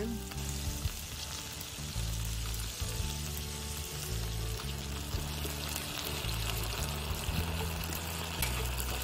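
Red wine poured into a pan of sizzling vegetables over an open fire, loud steady frying hiss with stirring scrapes and a pulsing rhythm throughout, no voices.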